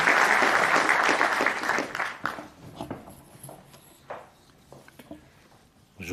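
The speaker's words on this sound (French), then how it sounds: "Vous pouvez l'applaudir, bien sûr" A conference audience applauds a speaker, with dense clapping loud at first, then thinning into scattered claps and fading over a few seconds.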